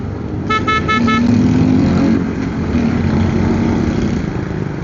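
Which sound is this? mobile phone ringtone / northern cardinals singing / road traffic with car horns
road traffic with car horns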